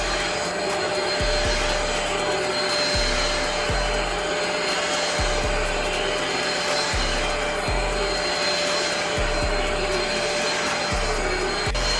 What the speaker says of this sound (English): pretty nice cleaning this carpet right here